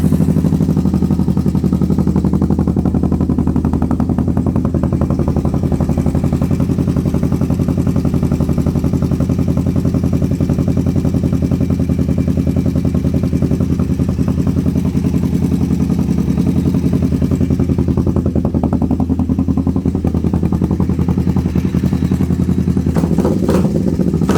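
Motorcycle engine started with the key after clutch and speedometer cable work, running steadily and loudly up close for the whole stretch with a rough, clattery idle and slight revving variation.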